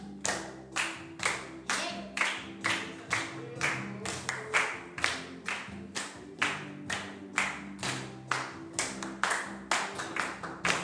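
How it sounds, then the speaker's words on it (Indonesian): A church congregation claps in unison along to a worship song, loud, evenly spaced beats at a steady tempo with sung music and instruments underneath. "Kita nyanyi yuk. Tepuk tangan yuk."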